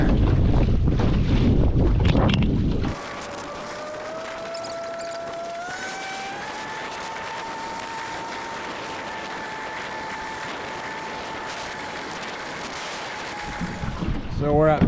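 Wind gusts across a rough lake as heard from a fishing boat, a steady hissing rush with a faint tonal whistle, after a loud blustery opening where someone talks.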